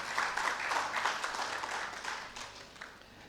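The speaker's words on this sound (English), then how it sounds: "So the clapping is too small." An audience claps at an event, a moderate patter of hands that swells briefly and then thins out, fading toward the end.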